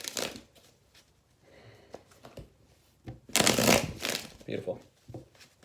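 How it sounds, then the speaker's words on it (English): Tarot cards being shuffled by hand, with soft riffling and flicking bursts that grow louder toward the middle, close by and quiet, with brief muttered speech around them. "I can't shuffle."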